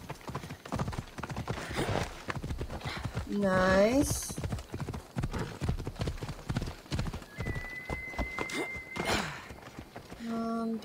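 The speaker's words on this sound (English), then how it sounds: "Oh yeah, I've got a horse coming." A horse in Assassin's Creed Odyssey clip-clops rapidly toward the player, hooves drumming in a steady rhythm. A loud whinny and game sound effects break in, and someone briefly speaks over the hoofbeats.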